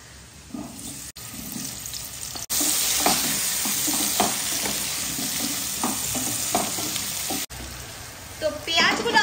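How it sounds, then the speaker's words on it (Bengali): Potato pieces coated with salt and turmeric frying in hot oil, a continuous loud sizzle that jumps in level partway through, with stirring clatter and brief pauses where the sound cuts out. "আর এবার আলুগুলো ভেজে নেব।"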